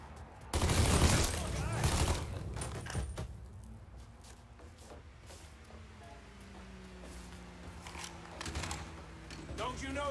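Gunfire bursts in the Mafia III video game, with a loud rapid volley near the start followed by scattered shots that fade under shouting voices and game music.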